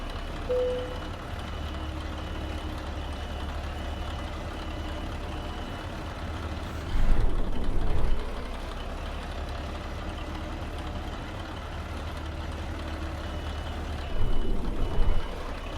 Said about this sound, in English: I pull the truck forward here